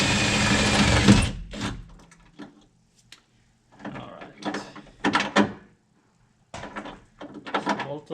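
A power drill whines in short repeated bursts, drilling out spot weld joints in the steel body of a 1967 Ford Mustang, with pauses between each hole, close and fairly loud.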